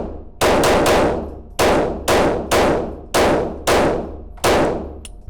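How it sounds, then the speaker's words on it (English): Glock 48 pistol shots fired outdoors, about eight loud sharp reports spaced irregularly, each one ringing out with a long decaying echo, with no talking. "So this is the first time firing the Glock 48."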